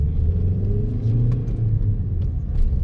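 Diesel car pulling away and accelerating, a loud close engine rumble with a rising drone heard from inside the cabin.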